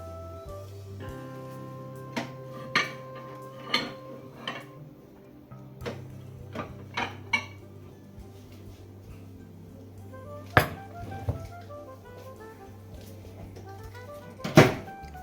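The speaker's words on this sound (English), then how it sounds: "now I will take out the dish" A dish is lifted out of a microwave after cooking steamed prawns malai curry, with a sequence of sharp clicks, knocks and clinks spaced a few seconds apart, followed by a louder rattling clatter and a final bang, all close by.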